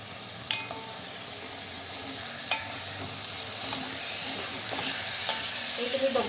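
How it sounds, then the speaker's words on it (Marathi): Marinated vegetables for paneer veg biryani sautéing in a pan, a steady close sizzle and hiss with occasional sharp clinks of a spoon stirring, no voices. "या सगळ्या आपल्या व्हेजेस आपण यामध्ये टाकून परतून घेतल्या आहेत"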